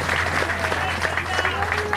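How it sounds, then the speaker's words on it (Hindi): Rally crowd applauding during a Hareli festival address by the Chhattisgarh chief minister in Durg, a steady dense wash of clapping with a low hum running underneath and no clear break. "तेकर और जोरदार ताली बजा"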